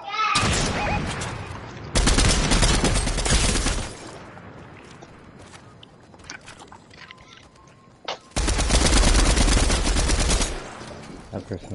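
Loud bursts of rapid automatic gunfire in Fortnite, two long sustained volleys separated by a quieter stretch, with players chatting over the action.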